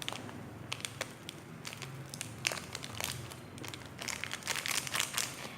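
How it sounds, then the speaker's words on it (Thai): A Sabaidee herbal coffee sachet being torn open and handled, with crisp crinkling and rustling of the packet that grows busier toward the end, close up and with no speech. "หลังจากนั้นเขาก็นี่ละฉีกซองกาแฟนี่ละง่ายๆเลย"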